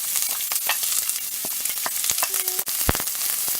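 Chopped onions, two small ones, frying in oil in a pan with cinnamon bark, giving a steady close sizzle and crackle with occasional louder pops and stirring scrapes throughout.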